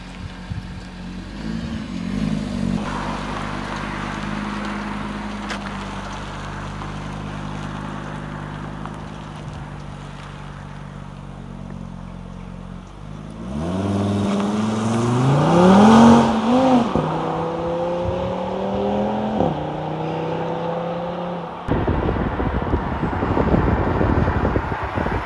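A Cupra Formentor VZ5 pulls away hard in sport mode, its engine note climbing through rising gear sweeps with shifts, loud and close from inside the car after a steady idle-like drone, with no talk over it.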